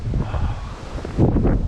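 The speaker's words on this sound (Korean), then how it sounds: "오늘따라 날씨가 바람이 불고" Strong gusts roar across a snowy mountain ridge at Gyeryongsan after heavy snowfall, buffeting the microphone with rumbling, surging wind that swells louder toward the end, with no talking.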